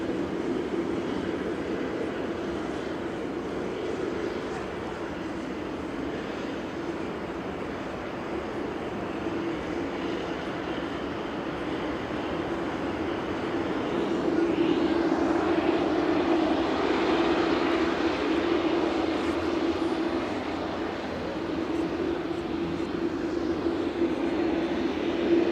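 A Jet2 Boeing 737-800, eight years old, lands on runway 05 left at Manchester Airport, its engines a steady, loud roar that swells midway and holds before easing slightly, heard alone without talk.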